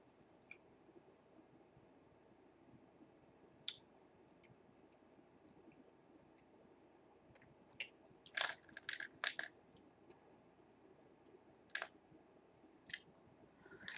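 Chewable bariatric vitamins are crunched between the teeth in sparse, close, quiet bites, with a cluster of sharper crunching clicks midway and a few isolated crunches later, against a faint room hush.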